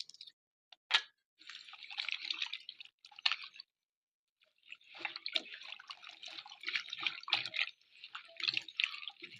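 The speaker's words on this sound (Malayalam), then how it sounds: "മഞ്ഞൾ കലക്കിയ വെള്ളത്തിലേക്ക് മുറിച്ചിടുന്നത്" Cut plantain pieces drop one after another into a bowl of turmeric water, giving close, wet plops and splashes in irregular bursts with a short pause between them.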